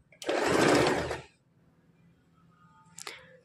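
Sewing machine stitching a princess-cut blouse seam: one loud steady whirring burst of about a second, then a quiet pause and a brief mechanical clack near the end, no talk.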